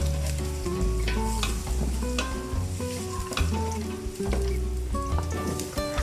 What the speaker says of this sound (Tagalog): Maglagay tayo ng cooking oil. Then, sautein natin ang ating onions.